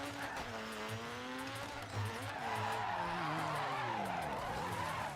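A rally car in DiRT 3 drifts and skids on a course with dirt ramps and scaffolding, its engine revving and wavering as tires squeal and scrub across the surface, close and loud throughout.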